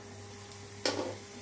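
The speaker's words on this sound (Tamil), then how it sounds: "எண்ணெய் நல்லா காஞ்சிச்சு. நான் 1 டீஸ்பூன் கடுகு உளுந்து சேர்த்துருக்கேன்." Mustard seeds and urad dal hit hot oil for rasam, giving one short, faint burst of sizzling crackle over a quiet kitchen background.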